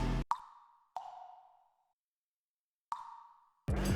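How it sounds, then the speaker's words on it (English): Water drop samples used as percussion in a beat: three separate plinking drops with short resonant ringing tails, spaced unevenly and heard alone, before a louder sound cuts in at the end. "I put some water drops to act as percussion"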